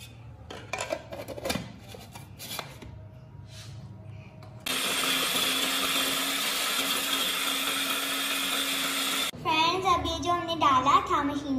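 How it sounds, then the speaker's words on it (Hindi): An electric grinder whirs loudly and steadily as it blends green chili, onion and garlic-ginger paste, starting after some clatter and talk and cutting off to a voice speaking. "और अब हम इसको ग्राइंड कर देंगे."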